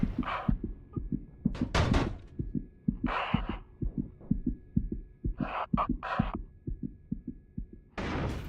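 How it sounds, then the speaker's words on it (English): A pilot's heartbeat pounds after being hit in the DCS flight simulator game, a fast, steady thudding pulse running throughout, close and loud, with bursts of breathy cockpit noise and a faint constant tone layered over it. "Hear the heartbeat going bananas."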